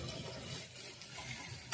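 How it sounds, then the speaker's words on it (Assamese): Onions and liver fry in a pot on the stove, giving a steady close sizzle with faint stirring scrapes throughout and a brief louder clatter at the end. "পিঁয়াজখিনি ভাজা হৈ যোৱাৰ পিছত মই ইয়াত পদখিনি দি দিলোঁ ওপৰত"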